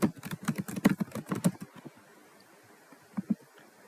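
Rapid keystrokes on a computer keyboard as a folder name is entered, a dense burst of close, crisp clicks for about a second and a half, then quiet with two final taps near the end.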